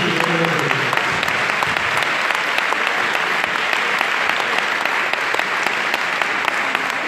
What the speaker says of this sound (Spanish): Yo de verdad que pido un fuerte aplauso para ellos